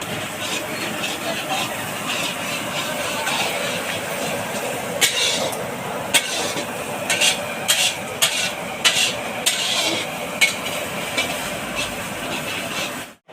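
Whole cumin seeds sizzle in hot oil for a mutton curry, a steady crackling hiss with scattered sharper pops and occasional spoon scrapes, someone speaking now and then.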